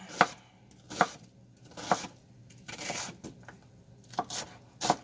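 Sharp knife chops strike a cutting board while dicing bell peppers, in an uneven rhythm, about seven crisp cuts with short pauses between them, close and clear.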